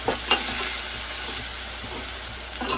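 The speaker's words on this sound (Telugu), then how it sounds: "కొంచెం లైట్గా ఫ్రై అయితే చాలు" Gongura prawn curry stirred and frying in a pan: a steady, close sizzle with occasional scraping stirs of the spoon, no voices.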